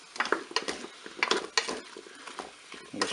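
Curry powder and crumbled beef stock cube being stirred in a Cookeo pot, a spoon scraping and clinking against the metal in quick, uneven strokes, close up.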